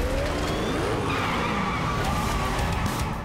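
Sports cars such as a McLaren and Bugatti Veyron race flat out with police in pursuit, a dense continuous engine roar with tire squeals and skids sweeping past, loud and close with no talk.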